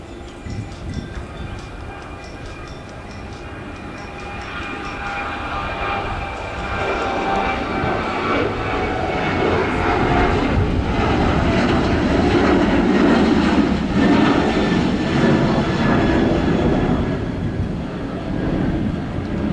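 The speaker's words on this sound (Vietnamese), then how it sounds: "Bây giờ chiếc máy bay đã tiến ra đường băng và được lệnh cất cánh rời khỏi sân bay Tân Sơn Nhất." A Boeing 737 airliner in a special livery takes off from Tan Son Nhat airport, its jet engines roaring steadily and swelling louder midway before easing slightly, with no voices over the sustained rumble.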